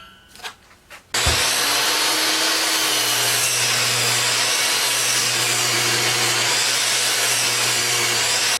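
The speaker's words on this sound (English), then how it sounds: "if I run it through 4 times on the planer, it'll get it down to 1 7/8" After a few brief knocks, a planer-jointer starts and runs continuously, loud and close, with a steady motor drone and the rough whir of cutter knives planing wooden boards for a baby crib.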